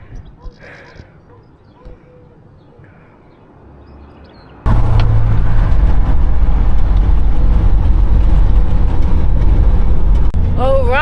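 Loud, steady engine rumble and road roar inside a moving lorry cab, heard after a quieter stretch; the lorry is headed for the border into Kosovo.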